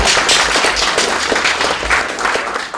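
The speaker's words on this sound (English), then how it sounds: "Applause." Loud, close applause from an audience at a NASA Space Apps Challenge presentation event, a dense burst of clapping lasting a few seconds without talk.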